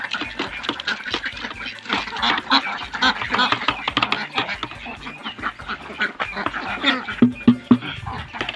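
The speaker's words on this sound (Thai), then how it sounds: "ความรู้สึกเหมือนวันนี้เป็ดมันจะร้อง ตลอดเวลา" A flock of farm ducks quacks loudly and constantly around feeding time, overlapping harsh calls close by, busy and chattering throughout.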